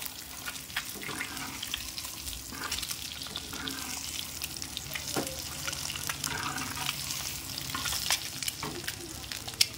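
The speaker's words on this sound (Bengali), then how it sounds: "ডিমটা ভাজা হয়ে গেছে ফাইনালি" An egg frying in a pan on a gas stove, with a steady close sizzle and light spattering that runs the whole time, plus occasional faint scrapes and clicks and no talk.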